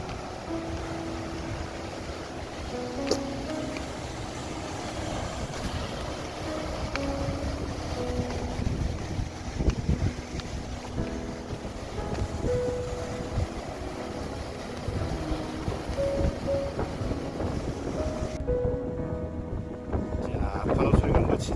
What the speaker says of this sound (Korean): 자, 파도 소리가 멋있죠?